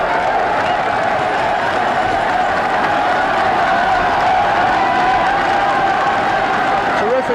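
A large stadium crowd roars and cheers steadily for Steve Prefontaine during his 3,000m American record run in 1972, a dense continuous swell of voices mixed with scattered applause.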